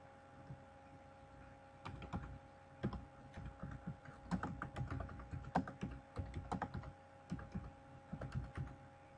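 Fingers type on a computer keyboard, soft close clicks in irregular bursts and short runs of keystrokes over a quiet room hum, with no voices.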